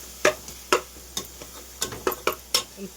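Mushroom biryani ingredients being stirred in a pot: about eight distinct, close scraping strokes in an uneven rhythm over a faint background, with no talk.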